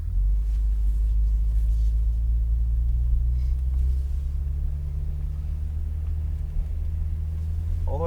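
An orange 2021 Corvette C8 Z51 rolls slowly up on a racetrack during a driving event, its engine a steady deep rumble heard close from inside the car, low and even with no hard revving.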